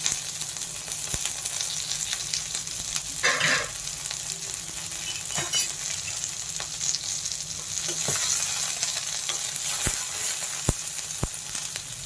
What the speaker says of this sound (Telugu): ఇంకా చూసుకుంటే పచ్చిమిర్చి ఆల్రెడీ వేగిపోయింది